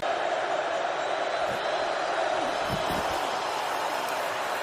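A stadium crowd at an NFL game between the Lions and the Buccaneers sends up a loud, steady roar throughout, with a commentator talking over it.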